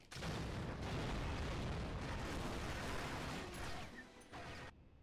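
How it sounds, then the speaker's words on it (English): An explosion boost combined with a jetpack in 007: Agent Under Fire gives a loud, dense roar of blast and thrust lasting several seconds before cutting off. "You can also combine an explosion boost with the jetpack for an extra big boost."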